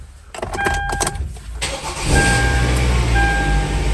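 A Hyundai Tucson's engine cranks and catches after a starter motor replacement, a brief starter whir followed by a loud steady idle close by.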